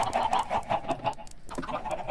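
Minecraft chickens cluck in quick, repeated bursts, close and fairly clear, with a brief pause midway before the clucking resumes.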